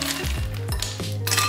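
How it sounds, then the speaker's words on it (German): Ice cubes dropped into an ice bucket for chilling Prosecco, a run of close glassy clinks and rattles as the pieces tumble and knock against each other and the bucket walls, fairly loud with no talking. "Ich mache jetzt ein bisschen Eis in den Eiskühler."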